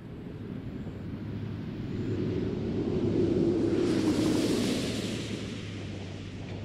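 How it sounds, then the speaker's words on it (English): Space Shuttle Atlantis touching down on its main gear on the runway at about 320 mph, a steady loud roar of rushing air and rumble that swells toward the middle and then eases, with no voices. "Main gear touchdown."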